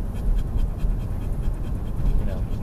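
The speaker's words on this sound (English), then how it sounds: "No, actually, it's Jimmy here panting and sharing his bad breath with me." A diabetic dog pants steadily and heavily close by, quick rhythmic breaths continuing throughout over low background rumble.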